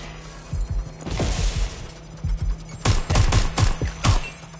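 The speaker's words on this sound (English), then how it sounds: "Shots fired, shots fired!" Gunfire in Watch Dogs Legion: a few sharp shots early, then a tight burst of four or five loud, close reports near the end, set over a low steady hum.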